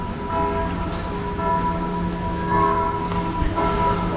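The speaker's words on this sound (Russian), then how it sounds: "И откуда-то доносится колокольный звон." Church bells ringing across a busy town square in Sombor, Serbia, on a mid-morning; sustained tolling tones hang steadily over the background city noise, moderately distant and continuous.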